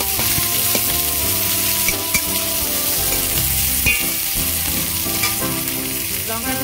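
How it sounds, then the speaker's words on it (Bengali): Onions fry in hot oil in a wok, a loud, close, continuous sizzle and crackle with faint scraping from stirring and no talking. "তেল গরম হয়ে গেছে, পেঁয়াজগুলো দিয়ে দেব।"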